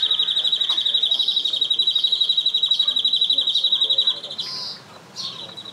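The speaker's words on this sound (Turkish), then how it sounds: "Şimdi biz diyoruz ki bak canalya ötüyor." A canary trills rapidly and continuously in a high, bright, rhythmic chatter, close by, ending with a few sharper chirps.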